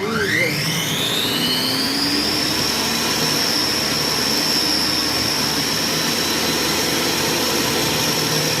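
A kitchen food processor blending homemade mustard spins up to speed 12, its whine rising sharply within the first second and then holding a loud, steady high-pitched hum until the end.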